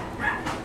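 A young puppy whimpers softly and continuously in a short, thin, wavering whine, close by with faint room noise around it.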